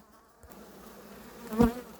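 Low buzzing of honeybees at a hive, soft and steady, swelling briefly louder near the end as one passes close.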